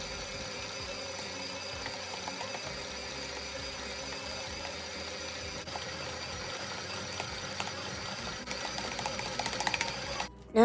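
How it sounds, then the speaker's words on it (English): Stand mixer with a dough hook kneading Spanish bread dough at slow to medium speed, a steady mechanical motor whir with a faint rhythmic knocking, constant throughout with a sharp clatter at the very end. "You can adjust the speed of your mixer from slow to medium speed."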